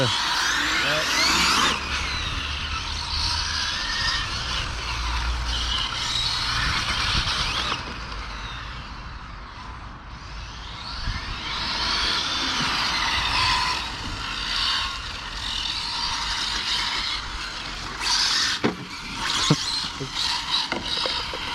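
A radio-controlled model car accelerates hard at high speed on a parking lot, its motor giving a loud, sustained high-pitched whine that surges, dips briefly midway and surges again.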